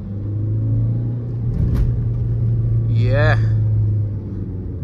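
A 2012 Suzuki Swift VDI diesel drones with a steady, loud low engine hum while driving, someone speaking over it inside the cabin.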